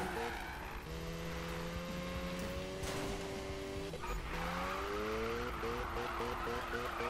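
A car drifting in a racing video game, its engine whining through rising and falling gear pitches while tires skid and squeal through corners, loud and continuous.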